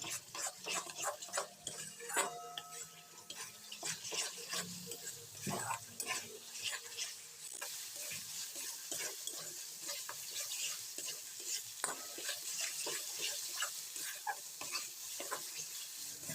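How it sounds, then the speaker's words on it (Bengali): A spice masala for Bengali doi katla fish curry is stirred and fried in a pan, giving a steady close sizzle broken by frequent scraping and tapping from the stirring utensil, with no talk. "এরপর আরও 1-2 মিনিট মশলাটাকে কষাতে হবে।"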